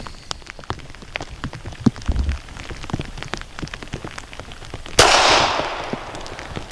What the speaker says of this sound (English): Very soft shooting.